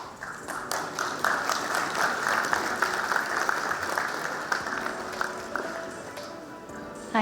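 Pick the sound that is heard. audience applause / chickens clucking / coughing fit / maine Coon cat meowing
audience applause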